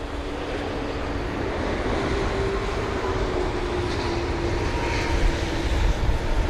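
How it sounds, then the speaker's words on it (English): A Middle East Airlines Airbus A330-200 lands at London Heathrow during a storm, a steady, broad engine roar with rushing wind and rain filling the whole stretch and rising slightly toward the end. "The Middle Eastern Airlines A330-200 this is."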